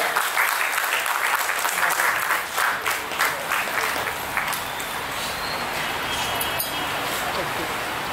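An audience at a book launch event claps to welcome a guest, a sustained round of applause from a seated crowd that gradually thins out, with a voice briefly heard over it.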